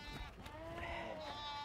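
A goat bleats in a wavering, drawn-out call over a busy market-like background with a low hum, the cry fairly close and sustained across the moment.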